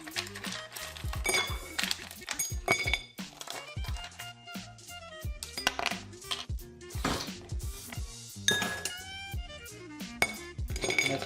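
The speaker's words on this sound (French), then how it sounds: "Quelques glaçons." Ice cubes for a bourbon Old Fashioned clink and knock against a glass in a steady run of sharp, close taps, with a few brighter ringing hits and no talking.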